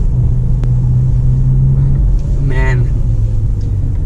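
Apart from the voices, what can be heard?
Lexus NX300 F-Sport engine while driving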